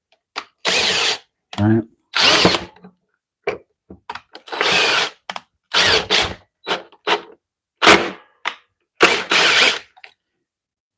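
A power drill drives a screw into a chunk of wood in repeated short, loud bursts of whirring and ratcheting, with brief pauses between pulses; a voice speaks briefly.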